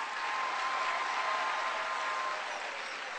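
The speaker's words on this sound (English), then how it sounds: "Give the playwright another round of applause." An audience at an arts showcase applauds a playwright, a dense, steady wash of clapping from a large crowd heard from a distance, sustained without a break and with no talk over it.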